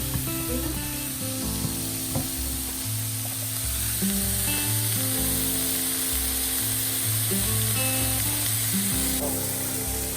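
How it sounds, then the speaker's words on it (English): Mushrooms and aubergine sizzle in a pan as they sweat down for a cottage pie, a steady hiss that runs through the whole stretch beneath prominent tonal background music. "Add in the mushrooms and aubergine into the pan."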